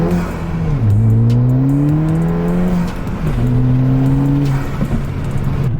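A Ford Fiesta ST running an ethanol tune revs loudly up close, its engine note climbing in two long sweeps with a brief drop between them.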